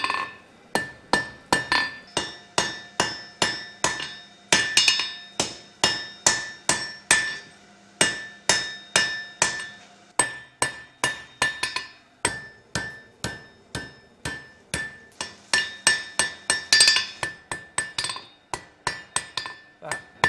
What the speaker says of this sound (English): The hammer I'm using is a German pattern.